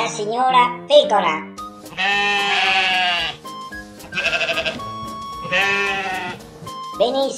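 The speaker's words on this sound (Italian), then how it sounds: "Avanti la signora pecora." Several wavering sheep bleats, three long ones and a short one, close and clear, after a brief voice at the start.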